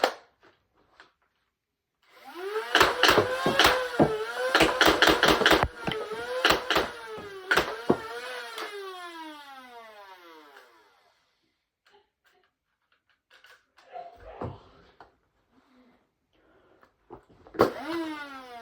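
Adventure Force Maxim Pro foam dart blaster firing Nitro Shot darts from its 12-round magazine, a rapid burst of sharp mechanical clacks over a whirring flywheel motor that winds down, followed later by a few scattered clicks and handling noises.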